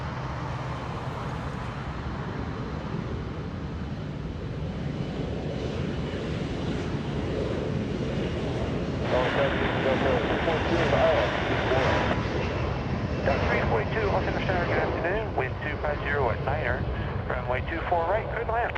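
A jet airliner roars on the runway at Los Angeles International Airport, a loud, steady engine rumble that swells as it goes, with wind buffeting the microphone and air traffic control radio chatter over it.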